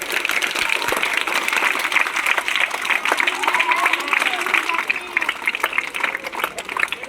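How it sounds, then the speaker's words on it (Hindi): Enthusiastic applause from a school audience welcoming a quiz winner at a Teacher's Day event, fairly loud and sustained with voices chattering underneath. "मेरे तरफ से पुनः इनको जोरदार ताली से स्वागत किया।"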